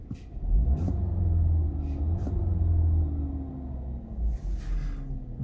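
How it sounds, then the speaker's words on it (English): A BMW 116i engine revs from inside the car with the windows closed, a steady low rumble rising and falling through several blips at moderate loudness. "I close the window and rev it from inside."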